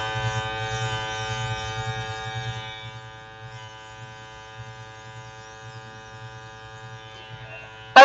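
A makeup airbrush hums steadily as it sprays foundation down the nose and across the cheeks, a continuous tonal buzz that softens partway through and runs on alone, with no talking, before ending in a brief sharp burst.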